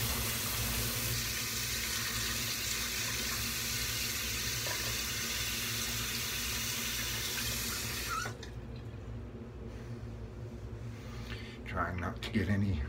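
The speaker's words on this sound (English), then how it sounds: "Run it some under some warm water." Warm tap water runs steadily over a straight razor blade during a shave, a continuous close hiss of flowing water that drops off partway through, with a few faint handling sounds near the end.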